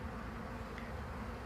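Honeybees on a beehive frame hum faintly during a beekeeping demonstration, a soft, steady low drone with no voices over it.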